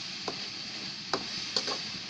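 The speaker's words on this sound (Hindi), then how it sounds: "अब इसमें हम नमक 1 चम्मच इसमें हमने नमक डाला है और थोड़ी देर इसे भूनते हैं" Vegetable sabzi being sautéed in a pan after a spoonful of salt goes in: a soft steady sizzle with a few light taps of the spoon stirring against the pan, close and quiet.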